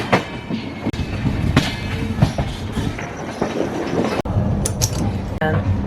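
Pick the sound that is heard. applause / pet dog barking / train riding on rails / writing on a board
train riding on rails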